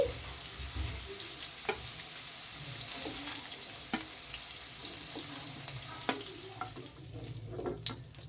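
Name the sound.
paneer frying in oil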